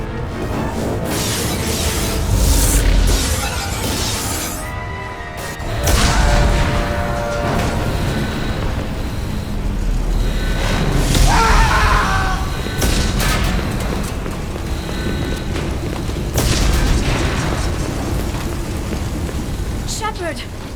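Heavy booms and crackling fire aboard a damaged starship in the video game Mass Effect, with explosions swelling and fading over a continuous rumble while voices talk over the chaos.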